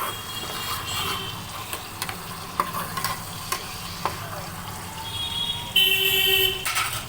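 Ginger garlic paste sizzling steadily as it is sautéed in a pan, with occasional scrapes of a stirring spoon over a continuous frying hiss.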